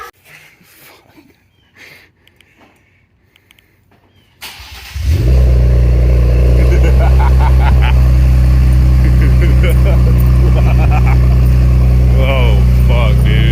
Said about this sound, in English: we're going to start this up open downpipe